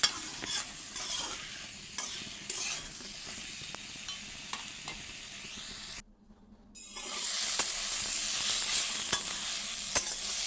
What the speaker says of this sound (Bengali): নুন হলুদ দিয়ে আমি ভেজে নিচ্ছি